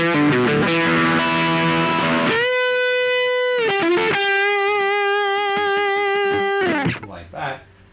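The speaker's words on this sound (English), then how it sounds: "You can also get some really cool traditional kind of tube screamer tones as good as the neck pickup" An electric guitar on its neck single-coil pickup runs through a Danelectro Billionaire Pride of Texas TS-style overdrive. A few crunchy strummed chords lead into long, singing sustained notes that ring out, then cut off and fade.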